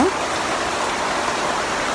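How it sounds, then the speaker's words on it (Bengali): Heavy rain falls outside in a loud, steady, dense wash of drops that continues without a break. "বাইরে বৃষ্টি আসতেছে বাইরে প্রচুর বৃষ্টি"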